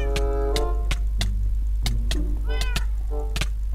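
A Minecraft cat meows repeatedly in short, clear calls, about ten in quick succession, over a constant low hum.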